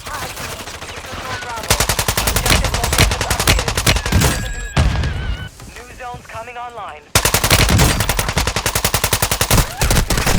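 TR-76 rifle firing in Call of Duty Warzone 2.0: loud, rapid automatic bursts repeat close up, broken by a short lull with brief voices, then the firing resumes.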